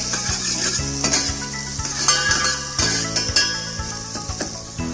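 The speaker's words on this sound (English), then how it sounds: "Add bay leaf, little bit of chopped garlic, chopped onion. Just saute for a minute." Chopped garlic, onion and a bay leaf saute in a mix of oil and butter, giving a steady close sizzle with the clink and scrape of stirring in the pan.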